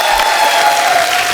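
Studio audience applause on a Hindi television comedy talk show, greeting a singer as he arrives on stage: a dense, steady wash of clapping with a faint crowd murmur, loud and sustained throughout.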